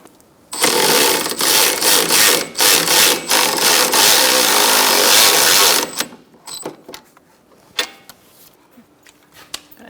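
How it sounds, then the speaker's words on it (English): A cordless battery ratchet spinning a sway bar link nut on a 2002-2006 Honda CR-V, a loud close buzzing run of several seconds with brief stutters, followed by quieter clicks and handling noises. "and using my battery ratchet"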